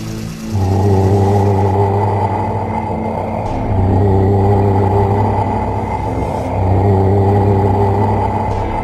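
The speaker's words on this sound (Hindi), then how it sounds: "गुल्ली ने गाड़ी की स्पीड बढ़ाई और तीनों वहां से फरार हो गए" A cartoon car, with three characters fleeing zombies inside, revs up and speeds away in a zombie horror cartoon, giving a loud, steady engine rumble that swells twice more as it accelerates.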